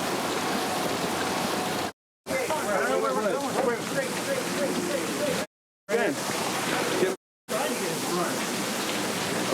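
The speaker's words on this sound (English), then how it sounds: "it's raining" Rain falls outdoors as a steady, broadband hiss that fills the scene, with brief dropouts and people talking over it.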